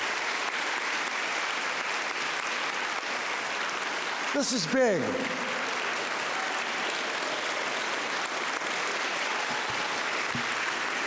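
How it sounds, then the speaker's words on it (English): A large audience at an evening education awards event gives sustained standing applause, a dense steady wash of clapping lasting throughout, with a brief voice speaking over it partway. "How about a standing round of applause?"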